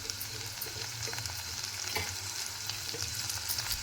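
Chopped mint frying in a pan with tomato and onion for tomato rice bath, a steady close sizzle running throughout, broken by soft scraping stirs.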